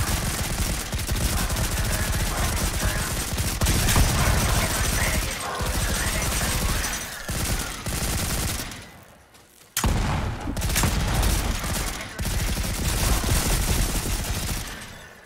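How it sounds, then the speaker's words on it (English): Mortar turrets firing at enemies in the Volcanoids game: dense, continuous rapid gunfire and booming blasts, loud and close, with a brief lull before the barrage resumes. "Well, it was a good field test of our new turrets."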